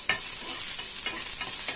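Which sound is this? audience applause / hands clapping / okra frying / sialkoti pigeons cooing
okra frying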